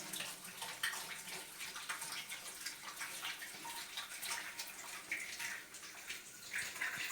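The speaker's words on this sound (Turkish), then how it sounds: "Şu elimi yıkayayım ben." Hands being washed under a running tap, a steady rushing splash of water with shifting gurgles as the hands move through the stream, close and continuous with no talk.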